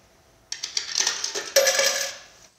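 Coins dropping into a coin-operated machine in a museum, with a rapid metallic clatter and jingling in two quick bursts that fade as the coins settle, close and clear in a quiet room.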